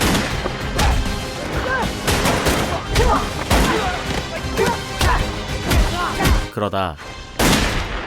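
Gunfire in a crime film's shootout with trafficking gang members, a rapid run of loud sharp shots and crashes repeating throughout, with a brief drop before the shooting resumes and a voice speaking in passing.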